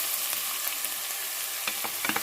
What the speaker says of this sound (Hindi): लहसुन अदरक पेस्ट डाल दूंगी